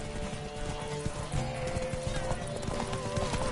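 Roach, Geralt's horse in The Witcher 3: Wild Hunt, clip-clops at a steady trot, with close hoofbeats throughout and a brief neigh over a busy in-game ambience.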